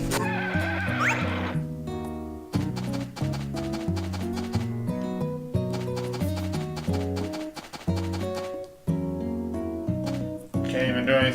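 A horse in the video game Harvest Moon: A Wonderful Life neighs over looping, melodic game music, its whinny rising briefly near the start before the tune carries on.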